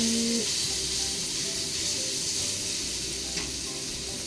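Pork and egg sizzle as they are stir-fried together in a pan for a sweet-and-sour dish, a steady, close, hissing fry that holds at an even level with no voices.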